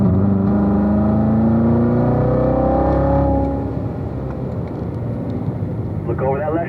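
A car lapping a track through a sequence of turns, its engine note holding steady then shifting as gears change, loud and close for a few seconds before a coach's voice takes over with the engine lower beneath.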